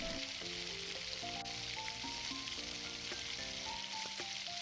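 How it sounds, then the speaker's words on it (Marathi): Pav bhaji mixture frying in oil with dry spices such as coriander powder, garam masala and red chilli, a steady close sizzle over faint background music, with no talking. "हे मिश्रण आपल्याला सर्व व्यवस्थितपणे परतवून घ्यायचं आहे"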